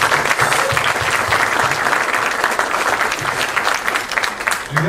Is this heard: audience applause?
yes